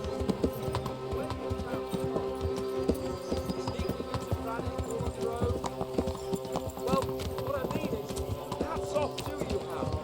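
In the medieval video game Kingdom Come: Deliverance, horse hooves clip-clop in a steady, close, rhythmic beat on hard ground, layered with background sounds and voices.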